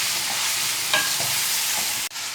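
Minced meat keema frying in a pan over low heat, a steady close sizzle with occasional stirring scrapes and a brief knock near the end.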